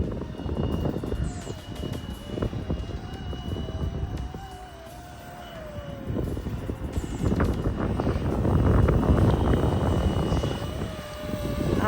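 A 3D-printed RC helicopter with an AS350 Squirrel-style rotor head hovers outdoors in the cold, its steady whining rotor and motor hum wavering in pitch over gusty wind noise.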